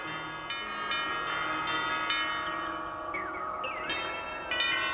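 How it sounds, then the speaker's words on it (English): Stainless steel tubular bells of a carillon ring out an hourly melodic fanfare, a string of bright, ringing strikes with long decaying tones, heard softly at a distance over a faint outdoor background. "On the hour, there's a melodic fanfare and colourful display which changes with the seasons."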